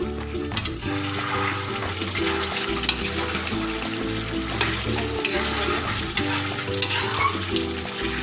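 Chicken pieces for a raisin curry fry in a pan, a steady, loud broadband sizzle with repeated scraping stirs and clinks running throughout, close and alone.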